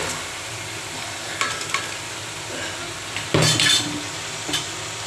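Thinly sliced bitter gourd and green chilies fry in a pan with a steady, moderate sizzle. A few utensil scrapes and clinks against the pan break in as the food is stirred.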